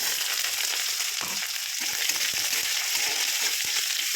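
Chopped onion hits hot oil already seasoned with cinnamon, bay leaf, peppercorns, dried chilli and cumin, setting off a loud, steady close-up sizzle with scattered stirring scrapes throughout.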